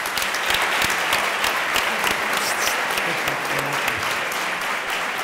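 A crowd applauds after a panel discussion on breast cancer, with dense, even clapping from many hands that is fairly loud and sustained throughout.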